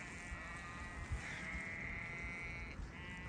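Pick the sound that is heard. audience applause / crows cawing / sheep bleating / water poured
sheep bleating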